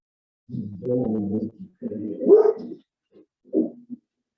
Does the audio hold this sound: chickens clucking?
no